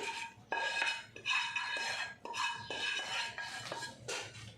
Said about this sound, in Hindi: अब हम गुड़ को इसके अंदर डाल देंगे